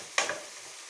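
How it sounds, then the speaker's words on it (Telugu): Onion, ginger-garlic paste and tomatoes hit hot oil with a sudden close sizzle and a quick stir, hissing briefly before settling into a faint steady frying hiss. "దీంట్లో ఆయిల్ వేసి ఆనియన్ అల్లం వెల్లుల్లి పేస్ట్ ఇంటి టమాటాలు వేసాను"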